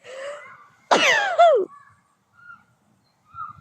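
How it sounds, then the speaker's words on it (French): A single loud, abrupt sneeze bursts out close by, followed by near silence with faint rustles. "Pardon, je vais éternuer."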